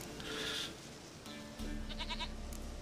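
A goat in a video game gives a few short, quavering bleats, one early and a stuttering series toward the end, set against steady game ambience at moderate volume.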